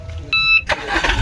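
A Swaraj 744 XT tractor engine cranks and catches at close range, a sharp burst of starter and engine noise with a brief electronic beep before it.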